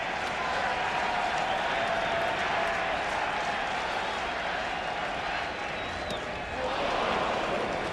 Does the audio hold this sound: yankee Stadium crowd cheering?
yes